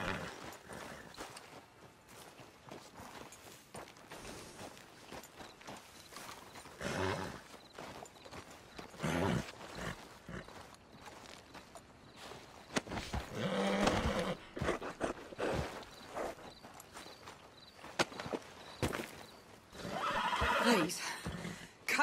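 A horse in Red Dead Redemption 2 whinnies loudly and clops its hooves amid busy game action, with voices talking over the commotion.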